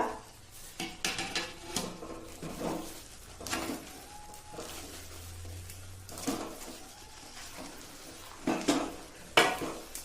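Sabudana being stirred in a pan, with repeated scraping and clinks of a spoon against the metal in an uneven rhythm, close and fairly loud.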